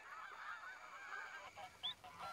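Canada geese honking at a distance, a few faint nasal calls over a soft outdoor background, one call slightly louder near the end.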